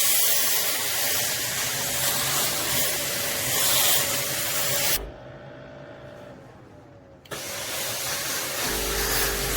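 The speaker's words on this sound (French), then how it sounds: "Alors le bruit de la pompe aussi d'aspiration, on l'entend un petit peu." A Laurastar S Pure ironing system's suction pump runs with a loud, steady airy whoosh that cuts out for a couple of seconds midway, then starts up again at full strength.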